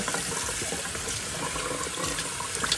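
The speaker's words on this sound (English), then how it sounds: "Raise it up and give it a good rinse. Lift that skin up. Allow the water to" Running tap water pours over a raw whole chicken being rinsed in a kitchen sink, a steady, close splashing rush with no talking.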